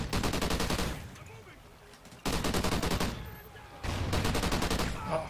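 Rapid automatic gunfire in the video game Call of Duty Ghosts, three long close, loud bursts separated by short pauses.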